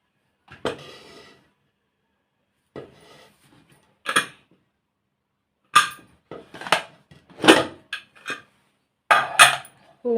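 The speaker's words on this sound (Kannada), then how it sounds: "ನಾನು ಕುಕ್ಕರನ್ನು ಓಪನ್ ಮಾಡ್ತಾ ಇದ್ದೀನಿ ನೋಡಿ" A cooled pressure cooker being opened in a home kitchen, a scattered series of close metallic clinks, knocks and lid scrapes separated by short quiet gaps, with no voice.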